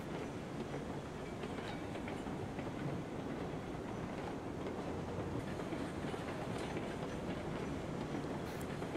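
A train rolls along in the railroad game Railroads Online with a continuous rumbling clatter of wheels on track and a brief high squeal near the end, steady and fairly loud with no voices.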